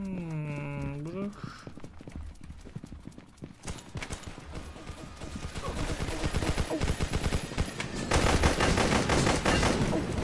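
Gunfire in the video game Roblox: dense, rapid bursts of shots that build and grow louder toward the end, after a short opening of tonal, voice-like sounds.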